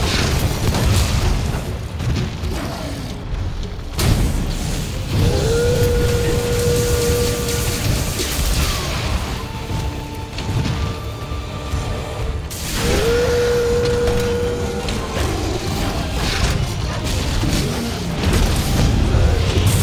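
Bombs planted in Monster Hunter World go off with deep, heavy booms that roll through a dense, noisy game soundscape, a few distinct blasts standing out over a steady rumbling bed.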